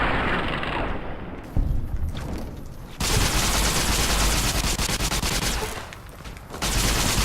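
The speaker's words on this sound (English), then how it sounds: "I can only throw down so much suppressing fire." A plasma repeater firing in Fallout New Vegas: dense, sustained rapid fire that cuts out briefly and resumes loudly, nearly unbroken throughout.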